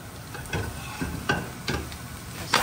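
Greens sizzling and being stirred in a hot non-stick pan after dried chili and garlic were fried in oil over high heat, with a steady crackle broken by several louder scraping stirs, close by and without talk.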